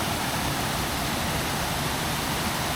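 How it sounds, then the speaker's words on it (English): Steall Waterfall, also called the Ben Nevis Waterfall, in the Scottish Highlands roars steadily, a dense unbroken rush of falling water that stays loud and even throughout with no voices. "Just a beautiful waterfall here."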